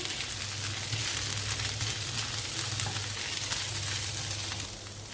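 Steady sizzling of garlic, ginger and cumin frying lightly in hot oil, a dense crackling hiss that continues throughout at a moderate level, with no talking.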